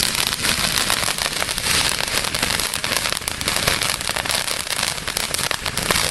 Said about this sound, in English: This is a pretty kick-ass firework right here.